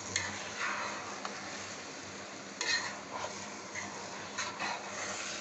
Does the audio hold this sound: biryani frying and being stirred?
yes